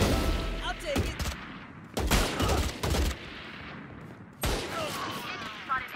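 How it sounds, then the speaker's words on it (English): Long-range Spectre gunfire in a video game, sharp bursts of shots in several clusters separated by brief pauses, fairly loud and close. "I am shooting long range with the Spectre"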